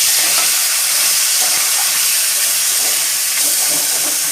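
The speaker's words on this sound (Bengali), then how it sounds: "তেলটা পুরো ভালো করে গরম হয়ে গেছে। এবার দিয়ে দেবো মাছের মাথাটা।" A fish head fries in hot oil, giving a loud, constant sizzle and crackle heard up close with no pauses and no talking.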